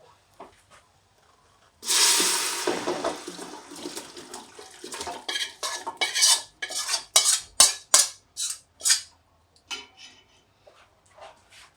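Pieces of pork tipped into a pot of caramelised sugar for Thai braised pork and eggs, a burst of sizzling followed by a string of rhythmic metal scrapes and clanks from stirring, close and with no talk.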